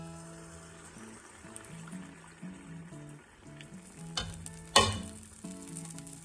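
Neyyappam batter frying in hot coconut oil over a medium flame, a steady close sizzle with a few sharp spattering pops and clatters, accompanied by light background music.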